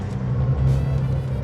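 A Datsun 240Z driving into a corner, its engine a loud, steady low rumble heard close up from the cabin, with no one talking.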